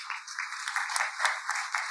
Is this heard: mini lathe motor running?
no